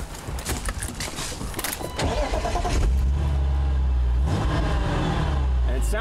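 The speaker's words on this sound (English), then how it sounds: "that high-pitched whine is the sound of the supercharger" A supercharged car fitted with new cams cranks, fires up and revs, settling into a loud, lumpy idle with a high whine from the supercharger, close to the microphone.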